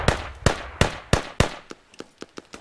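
Gunfire in the military shooter Squad: a rapid series of sharp shots, five loud cracks at even intervals followed by several fainter, more distant pops, with no talk over them.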